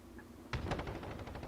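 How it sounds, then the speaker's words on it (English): Distant automatic gunfire in the Modern Warfare video game: a short burst of rapid cracks starting suddenly after a quiet moment, fairly faint. "To his left, I can hear the gunfire."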